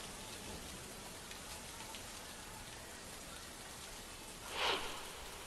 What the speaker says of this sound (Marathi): पावसाचा कहर इथे पाहायला मिळालाय